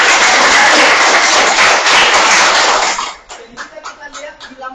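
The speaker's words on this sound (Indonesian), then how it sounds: "tepuk tangan" A classroom group claps loudly and steadily for about three seconds, then the applause thins into a few scattered, fading claps.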